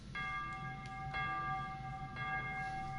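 A large bell is struck three times in Metro Exodus, each ring a clear metallic tone that hangs and echoes over a low ambient rumble, evenly spaced about a second apart.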